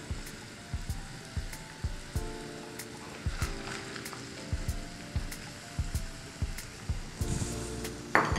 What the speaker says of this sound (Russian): Отправляем их жариться, точнее тушиться.